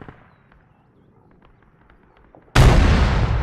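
Artillery gun firing in a video game: a sudden loud blast slams in after a stretch of faint background noise and keeps booming and rolling to the end.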